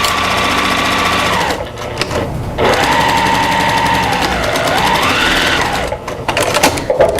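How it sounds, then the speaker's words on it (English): A sewing machine stitches to the end of a quilt seam, backstitches about 1.5 inches and runs off the seam again: a steady close mechanical whir with two short pauses where the stitching stops and reverses. "I'm going to come all the way off the seam, backstitch, and go all the way off the seam again"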